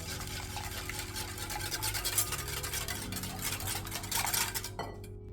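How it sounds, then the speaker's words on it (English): Melted unsalted butter is beaten into matcha fortune cookie batter, giving a steady close scraping and stirring against a bowl, with faint clinks of utensils and no talk. "we're also going to beat in 25 grams of melted unsalted butter"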